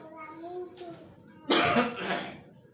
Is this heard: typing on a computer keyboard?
no